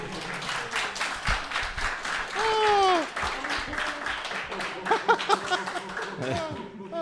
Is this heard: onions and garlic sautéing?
no